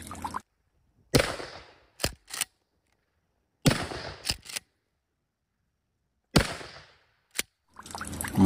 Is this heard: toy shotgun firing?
yes